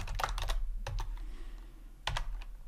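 Quick bursts of typing on a computer keyboard, clustered key clicks with a short pause in the middle, close and moderately quiet.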